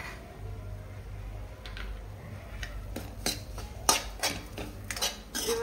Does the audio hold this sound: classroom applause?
no